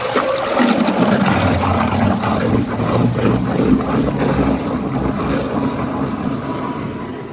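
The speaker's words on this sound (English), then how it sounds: "Here we have a high-speed tooth shape homogenizer head on the bottom of the tank." A high-speed tooth-shaped homogenizer head spins at the bottom of a vacuum reactor tank, producing a steady, loud, churning whoosh with a low rumble that holds evenly throughout without pauses.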